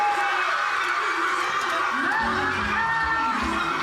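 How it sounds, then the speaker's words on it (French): A crowd cheers and applauds for the winning dance group, Soukini Dance, at the final verdict of a dance competition. The noise is dense and sustained, with whoops rising over it. "on applaudit pour Soukini Dance"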